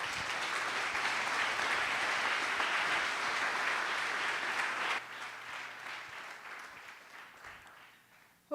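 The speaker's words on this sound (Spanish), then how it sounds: "¿Puede darle un aplauso a nuestro Dios por ello?" A church congregation breaks into sustained, full applause for about five seconds, then the clapping thins and fades away over the remaining seconds.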